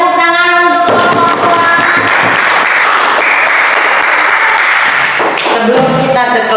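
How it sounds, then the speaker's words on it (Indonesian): Loud burst of group applause for a group of students in a classroom, dense clapping building quickly and holding for several seconds before tapering off, with brief speech at the edges. "Oke, tepuk tangan untuk kelompok"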